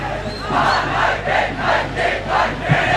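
Spectators at the 103rd Hill Country Battle of the Blues school cricket match, Trinity College versus St Anthony's, roar and chant in steady rolling waves, a dense, continuous crowd noise filling the ground.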